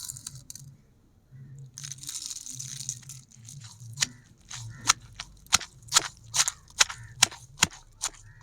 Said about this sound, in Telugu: ఇప్పుడు టమోటా, కరివేపాకు వేసి దంచుకుందాం.